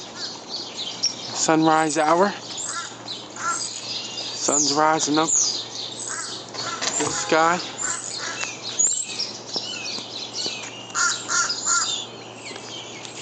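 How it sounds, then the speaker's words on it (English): Crows caw at sunrise outdoors, several harsh repeated calls at moderate distance mixed with other birdsong, while someone talks over them. "See a lot of crows this time of the year."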